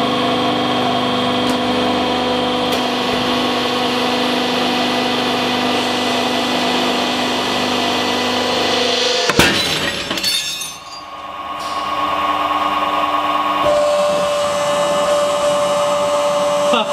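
A 500-ton hydraulic press crushes an anvil under a loud steady machine whine, then a sharp crack and burst midway as the metal gives way, followed by continuing mechanical hum.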